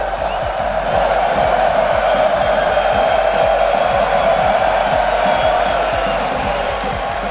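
A large arena crowd at the RLCS 2022-23 Rocket League World Championship, KCorp vs Vitality, roars continuously, a loud dense wall of cheering and shouting with steady rhythmic stomping or drumming underneath.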